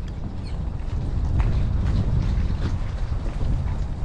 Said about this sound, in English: that wind just has never laid down in weeks